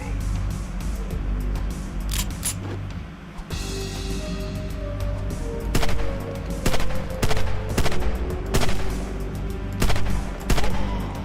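Pistol gunfire in a video game, a steady run of sharp, fairly close shots every second or so, ringing over a constant droning game ambience.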